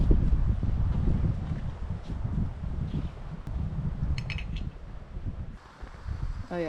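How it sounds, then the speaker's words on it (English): Strong wind buffets the microphone in a heavy, low roar that surges and eases, with faint splashing and brief knocks in the background, at a canoe campsite on South Hegman Lake in the Boundary Waters. "the wind like this is the norm"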